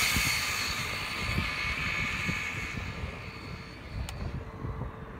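Traxxas Slash RC car run at full throttle on 4S power, a steady high-pitched motor whine with broad rushing noise that holds for several seconds and slowly fades as the car races away.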